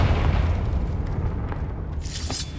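A Confringo explosion spell in Hogwarts Legacy, set in a cave, lands as a deep, rumbling boom that fades slowly, followed by a brighter crackling burst near the end.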